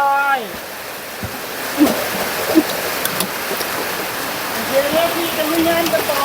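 Steady rain hisses throughout, with faint voices and a few brief clinks and tones rising over the constant wash.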